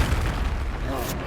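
The Confringo explosion spell in the video game Hogwarts Legacy goes off as a short, loud, rumbling boom with a dense low burst, fading within about a second.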